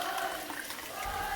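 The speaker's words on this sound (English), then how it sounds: "We're going to put water." Water pours steadily into a cooking pot for rice, a soft continuous splashing trickle, fairly quiet and without talk.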